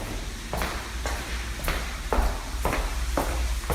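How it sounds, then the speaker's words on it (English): Hard-soled steps like high heels walking inside a house, sharp evenly spaced clicks about every half second, moderately faint against a quiet room. "Sounds like high heels."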